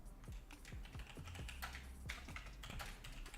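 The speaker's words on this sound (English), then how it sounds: "let's just type out the welcome email" Fingers tap a computer keyboard at a steady typing pace, quiet, close clicks in quick succession with no voices.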